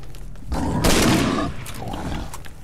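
Gunfire in the S.T.A.L.K.E.R. video game, out in a radiated garbage zone: a loud, dense burst of shots lasting under a second, set against a steady ambient rumble.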